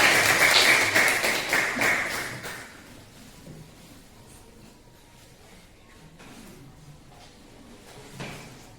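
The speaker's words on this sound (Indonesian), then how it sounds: "Kelompok 2 bagus, tepuk tangan." Brief classroom applause for a student group, a short burst of clapping in the first two or three seconds that quickly fades to quiet room noise with faint taps.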